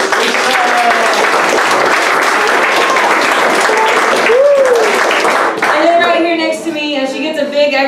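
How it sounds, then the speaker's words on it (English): Loud, sustained audience applause for a live bluegrass band performance, dense clapping filling the room as a crowd cheers, with a few whistles near the end. "Big extra round of applause"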